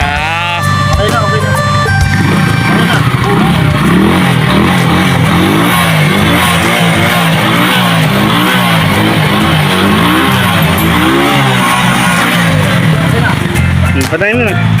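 A loud motorcycle engine runs and revs close by, its pitch rising and falling in repeated surges, with voices talking over it.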